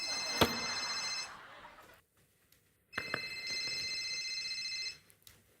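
A telephone bell rings in a comedy sketch, bright and metallic, in two long bursts separated by a short pause, close and fairly loud.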